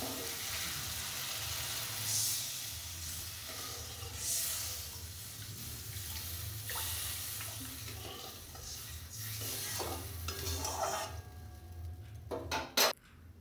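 Water poured into a pan of sizzling fried masala for a lentil kofta curry, a steady hiss and bubbling sizzle with some stirring, ending with a few sharp clinks, no talking.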